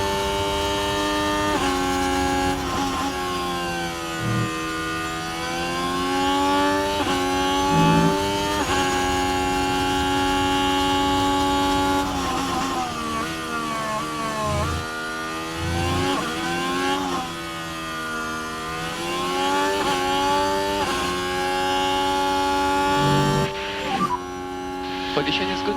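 Race car engines in a racing video game whine steadily at high pitch, rising and falling with gear shifts and acceleration over a long stretch, loud and continuous.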